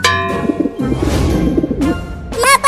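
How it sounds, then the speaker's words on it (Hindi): Pigeons coo over background music in a cartoon, a soft repeated cooing with a sharper bird call near the end. "चिंटू वो देखो, आसमान में ढेर सारे कबूतर उड़ रहे हैं।"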